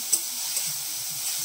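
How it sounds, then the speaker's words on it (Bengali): Spice paste cooking with ground tomato in a pan for a fish curry, a brief close sizzle with a soft scrape of stirring near the start. "টমেটো বাটা দেওয়ার পরে মশলাটাকে আমি একটু কষিয়ে নিচ্ছি"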